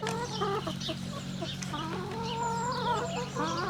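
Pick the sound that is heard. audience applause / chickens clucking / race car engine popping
chickens clucking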